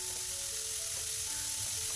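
Carrot upperi stir-fry sizzles steadily in a pan in a home kitchen, a soft, even frying hiss with no pauses and no voices.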